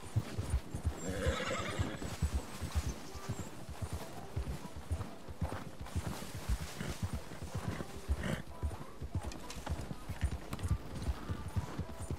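A horse in Red Dead Redemption 2 gives a clear neigh, followed by a steady rhythmic clip-clop of hooves under the game's ambient sound, all fairly quiet.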